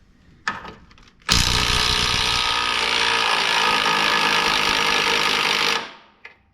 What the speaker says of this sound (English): We'll have to put a wrench on the other side.